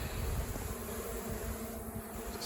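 Bees buzz steadily in a dense hum around a beehive cut out of a tree with a chainsaw, close and continuous at a moderate, faint level with no talk.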